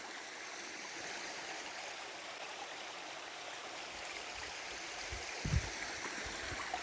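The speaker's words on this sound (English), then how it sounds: "Nice cold little stream." A small cold mountain stream flows steadily along a hiking trail, a soft continuous rush and trickle of water heard alone, with a few faint low thumps near the end.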